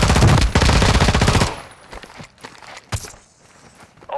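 Rapid automatic gunfire hits the player's squad in a video game: a loud, sustained burst of fast, evenly spaced shots that cuts off abruptly, then scattered single cracks and thuds trail away more quietly.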